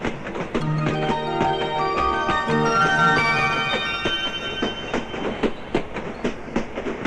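A train running along the track, with a steady rhythmic clickety-clack of wheels and the rumble of carriages, loud and close throughout with no talk.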